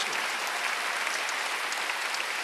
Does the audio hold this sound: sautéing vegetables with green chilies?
no